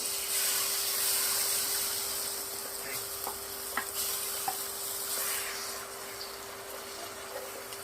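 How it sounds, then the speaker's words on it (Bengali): Spinach paste frying in hot oil in a Bengali home kitchen, a steady broadband sizzle and hiss with faint stirring clicks throughout, close and continuous with no voices. "পালং শাকটা এবার আমি তেলের মধ্যে দিয়ে দেবো।"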